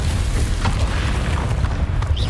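Deep booming rumble of a Confringo fire-spell explosion in the Hogwarts Legacy video game, a loud sustained low blast that holds steady for a couple of seconds.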